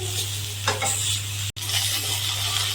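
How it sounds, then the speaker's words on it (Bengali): Eggplant frying in a pan gives a steady, close sizzle with soft stirring scrapes and one brief cut in the sound. "বেগুন ভাজা হচ্ছে।"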